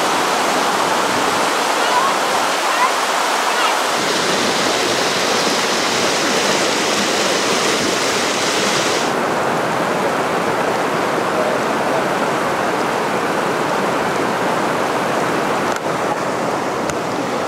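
Water pours steadily over Horsetail Falls in a loud, continuous broadband rush, close and unbroken throughout, with no gaps.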